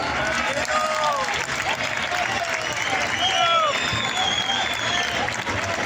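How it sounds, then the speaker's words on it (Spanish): A crowd at a MotoGP Valencia Grand Prix fan welcome event applauds the motorcycle club president, steady clapping filling the space with scattered whistles and cheers on top. "un fuerte aplauso para él"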